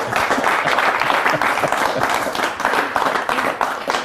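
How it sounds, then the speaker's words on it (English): A big round of applause for a helper named David, steady and dense clapping from a crowd, loud and close throughout with little else heard. "Let's give David a big round of applause."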